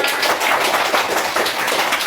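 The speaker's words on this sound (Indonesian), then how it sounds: "Tepuk tangan untuk kita semua." A group of pupils in an Indonesian classroom applauds together, a dense, steady patter of many hands clapping close by for about two seconds with no talking over it.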